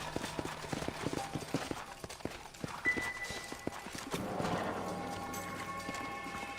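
Horses' hooves clip-clop in the Red Dead Redemption video game, a quick irregular patter of hoof strikes that fades as a sustained musical drone and tones rise, with no speech over it.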